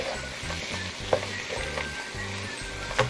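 Squid stir-fried in a pan for spicy Korean ojingeo-bokkeum: a steady sizzle with a regular rhythm of scraping stirs close by, plus a few sharper clinks of the utensil, and no talking.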